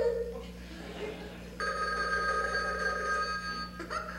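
A telephone rings in an office setting, its steady electronic ring starting partway through and holding to the end, close and clear, while some background chatter runs underneath.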